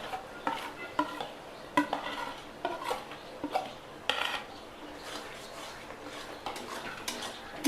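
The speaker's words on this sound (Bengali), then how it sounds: "পেঁয়াজগুলো লাল লাল করে ভাজা হয়ে গেছে, এবার আমি বেটে রাখা মশলাটা দিয়ে দেবো।" Ground spice paste is stirred into red-fried onions in a pan, with repeated scraping and clinking of a utensil against the pan and a faint sizzle underneath, close and moderately loud, with no voices.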